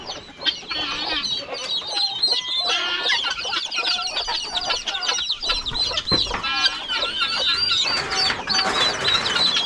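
Farm chickens cluck busily close by, many overlapping calls and clucks forming a lively, continuous chatter with no talking.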